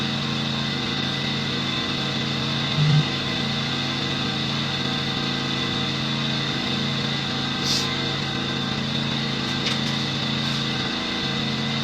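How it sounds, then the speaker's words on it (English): A portable generator's steady engine drone hums continuously throughout inside a storage unit, a constant mechanical rumble with no breaks, heard close with faint clicks over it. "I have to have my generator here because I'm in a storage unit"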